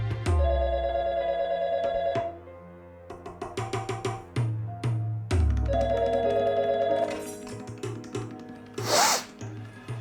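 A telephone rings in a TV drama, repeated bell-like bursts recurring across the scene amid loud background music and tonal sounds, fairly prominent and close.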